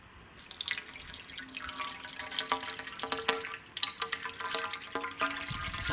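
Water is poured into a pipe on an automatic sliding door closer, making an irregular stream of splashes, gurgles and drips that grows busier over several seconds, fairly quiet and close.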